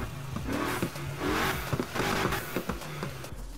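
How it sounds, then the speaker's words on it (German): A car engine in Need for Speed Heat fires up and revs, rising and falling in pitch with a synthetic, game-like quality, loud and close throughout. "da ich jetzt einfach mal den Motor starte"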